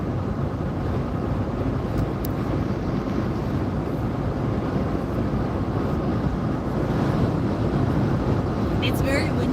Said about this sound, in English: It's very windy on this drive, too.